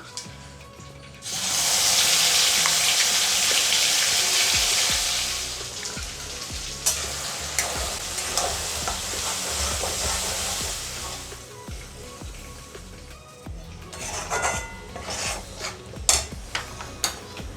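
Mustard seeds crackle and sizzle in hot oil in a pan while a green banana curry is being cooked, a loud dense frying hiss that sets in early and lasts several seconds, then eases into softer popping with occasional sharp clinks of a utensil.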